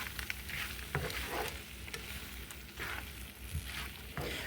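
Grasshoppers frying with sliced peppers in a pan on a lowered burner, a steady close sizzle with occasional stirring scrapes and pops.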